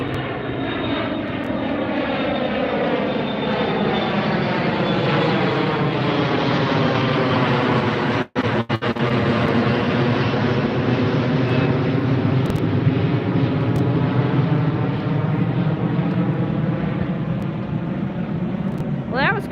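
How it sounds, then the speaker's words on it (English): A departing jet climbs out of LAX and passes directly over a beach at sunset, its loud engine roar swelling and sweeping in pitch as it flies close overhead, with a brief dropout partway through. "here's a departure that's going to go right over us"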